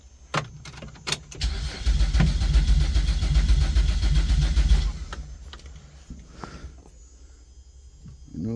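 A 2012 Chevrolet Impala cranks with a few short starter bursts, then catches and runs loudly for a few seconds before dropping to a quieter running note. No voices are heard.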